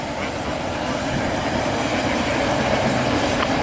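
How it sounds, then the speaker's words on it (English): A CSX double-stack trash train rolls steadily past close by, a loud continuous rumble of rail cars with rhythmic clickety-clack of wheels and faint squeals throughout. "Yeah, I'll go with this train"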